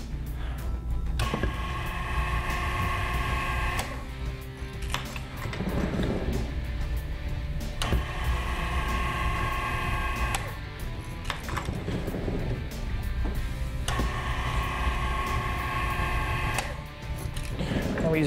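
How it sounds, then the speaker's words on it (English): A bowling ball secured in a sled and dragged across a dry lane panel for a friction test, making repeated grinding, whirring passes of a few seconds each with short pauses between, under a voice talking. "The sled is then pulled across a dry lane panel."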